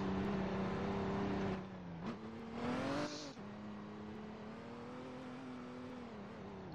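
A car engine drones steadily while driving in a Roblox game, with a couple of brief shifts in pitch as it changes speed, fairly quiet and alone.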